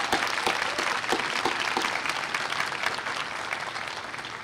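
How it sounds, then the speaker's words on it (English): Graduation ceremony audience applauding the graduates, sustained clapping from a big crowd that fades slightly toward the end. "let's give our graduates an applause."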